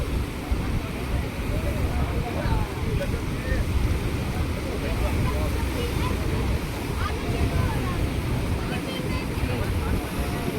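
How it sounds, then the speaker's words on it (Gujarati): Sea waves rolling in at Mangrol harbour, a steady broadband wash of surf with wind buffeting the microphone, continuous and fairly loud for the whole stretch. "અને મોજાઓ જો આવી રહ્યા છે,"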